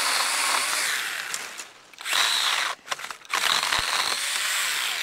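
STIHL GTA 26 battery garden pruner cutting through dead branches, a close, loud buzzing saw whine in two main bursts, dropping off briefly between cuts.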